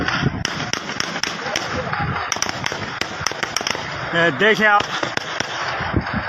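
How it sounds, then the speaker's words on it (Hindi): Repeated sharp bangs of gunfire and shelling during a clash between political workers and police in Gilgit, sharp cracks scattered irregularly across a noisy crowd scene, with a voice briefly speaking. "शेलिंग की जा रही है, फायरिंग की जा रही है, शेलिंग की जा रही है।"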